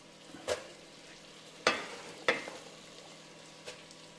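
Thinly sliced, lightly peeled celery sautés in a pan as part of a Christmas turkey stuffing. A soft, continuous sizzle runs throughout, broken by a few sharp stirring scrapes and knocks.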